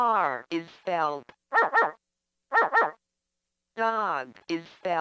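A voice speaks, then two pairs of quick, sharp electronic dog barks ring out from a 1994 VTech Little Smart Talking Alphabet Picture Desk toy, and the voice speaks again afterward.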